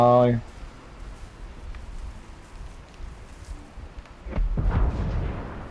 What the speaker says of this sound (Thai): โอ้โห เสียง เสียงระเบิด